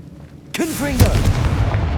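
A Confringo blasting spell in the Hogwarts Legacy video game sounds as a sudden loud burst about halfway through. Whooshing, swirling magical tones and a booming rumble follow it, with no talking.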